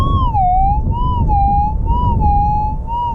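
Metal detector tone from a search coil run over poured crushed rock while prospecting near Meekatharra, Western Australia: a loud, steady, high warbling whine that gently wavers in pitch throughout, with no talk.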